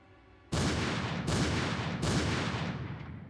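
Three loud, close gunshots from the video game Zero Time Dilemma, each a sharp blast with a long rumbling tail, spaced under a second apart after a quiet start.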